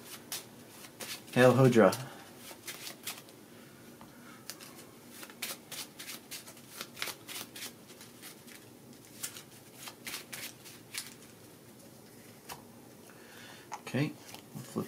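A deck of playing cards for a Marvel card game is shuffled in rapid riffles and soft crisp flicks, close and fairly quiet, while a voice talks briefly at the start.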